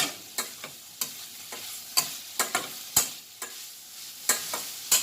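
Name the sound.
stirring coriander and mint into fried rice in pan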